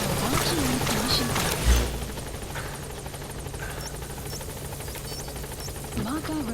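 A support helicopter arrives in the game Metal Gear Solid V: The Phantom Pain, heard as a loud, steady rotor roar with a brief thump early on, while faint game beeps sound in the background.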